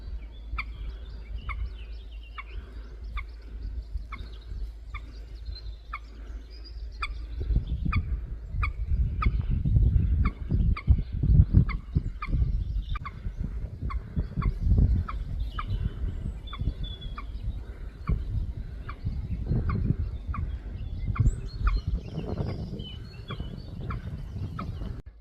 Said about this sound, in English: that's a pair of nesting moorhens and their little chicks.